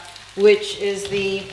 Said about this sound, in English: You can hear it sizzling right now, which means that some sections have some socorat.